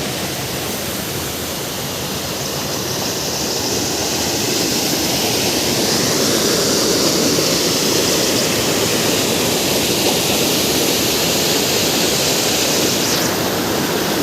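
Water pours steadily over a pond embankment in the Konkan countryside and runs down into a river, a continuous broadband rush that swells slightly louder midway and holds without a break.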